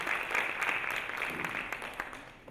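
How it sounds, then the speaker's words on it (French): A workshop audience at an investment-bank themed session applauds, a broad crowd of clapping hands that swells and then gradually thins out toward the end. "Est-ce qu'on peut leur faire des applaudissements?"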